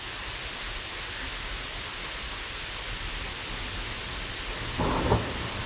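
A thunderstorm in Edinburgh: steady, dense rain hiss fills the whole stretch, with a louder rumbling crack of thunder swelling near the end.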